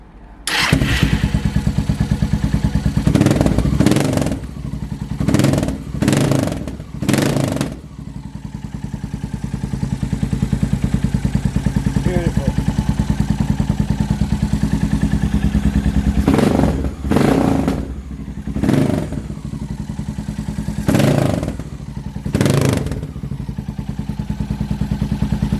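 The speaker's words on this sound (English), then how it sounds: "So I'll just fire this bike up for you, and yeah, it does sound very nice." A 2002 Suzuki DR650 single-cylinder motorcycle, a roadster flat-tracker build, starts and idles steadily at close range, with several sharp throttle blips breaking through the running engine, alone without talk.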